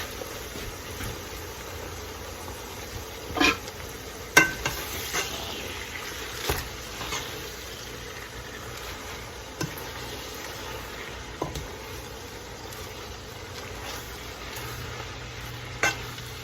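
Collard greens and onions frying in a pan, a constant low sizzle with occasional clanks and scrapes of stirring, close and without speech.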